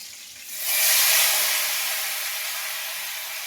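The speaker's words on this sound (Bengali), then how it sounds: "তারপরে দিয়ে দেবো পেঁয়াজ।" Onions dropped into hot oil, where a loud hissing sizzle surges up suddenly and then settles into a steady, slightly fading fry, close and alone.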